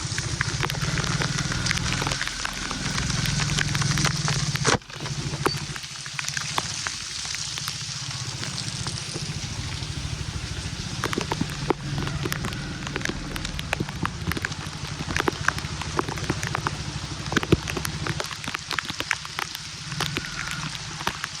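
Heavy rain pours down over a flooded village, a dense continuous hiss with scattered sharper drops and patters, steady and close throughout with no voices.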